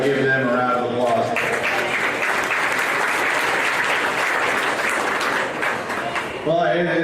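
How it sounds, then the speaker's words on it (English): Audience applause fills the stands at a county fair swine show, a dense steady roar of clapping lasting several seconds, with a voice talking briefly at the start and again as it ends. "If you would please give them a round of applause."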